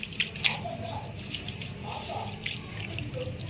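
Things are washed by hand in water, with soft splashes, trickling and small clinks of items moving under a running tap, fairly quiet and close.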